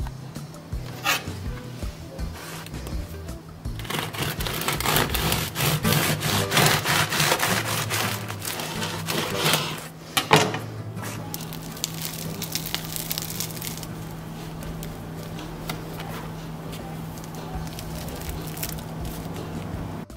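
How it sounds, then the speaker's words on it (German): A knife saws through freshly baked, cooled potato bread rolls, with a run of rhythmic rasping strokes through the crust, a brief pause, then further quieter cutting close to the microphone. "dann schneide ich sie an, damit wir auch sehen können, wie die von innen aussehen"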